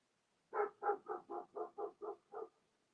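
A dog barks in a quick even run of about eight barks, clear and moderately close, with quiet around them and no talking.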